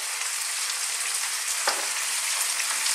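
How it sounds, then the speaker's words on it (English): Smoked bacon and chopped vegetables frying in a pan for a sausage and bean stew, a dense, even, hissing sizzle with one brief stir, close and steady, without talking. "we're simply going to throw this around in the pan."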